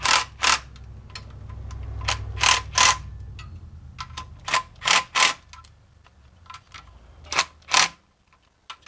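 Ratchet tightening bolts on the lower oil cover of a 2001 Nissan Altima engine, giving short bursts of quick metallic clicks separated by pauses, close and crisp with no talking.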